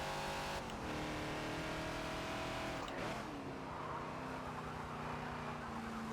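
A Ford Falcon XB race car in a Forza game lapping Hockenheim National, its engine droning steadily as the throttle eases for a corner, with a brief tire-scrub swell midway before the engine note settles and carries on.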